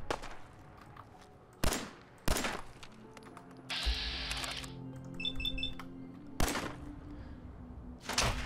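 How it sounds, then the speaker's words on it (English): Fallout 4 gunfire: single sharp shots crack out at uneven gaps, about four in all, standing out loud and close over quieter game noise that includes a steady hum and short electronic beeps. "I think I'm shooting the tree in front of me."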